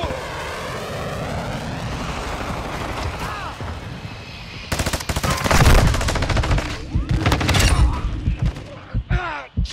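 Heavy automatic gunfire in Call of Duty Modern Warfare 2 multiplayer, loud dense bursts with sharp cracks filling the second half, preceded by quieter ambient battle noise and faint distant shots.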